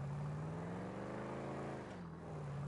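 A car's engine drones steadily in GTA 5 Online, a continuous low hum whose pitch rises and dips slightly as the car drives, loud and close with no talking.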